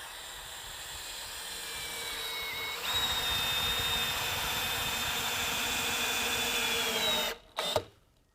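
A power drill drives a 3.5-inch stainless steel deck screw into decking with a steady, close whine that rises in pitch partway through, then stops with a couple of short bursts at the end.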